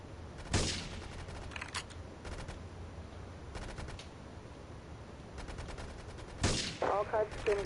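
Gunfire bursts through a Grand Theft Auto III firefight, with a couple of sharp, loud shots and several clusters of rapid repeated fire spread across a quieter ambient bed.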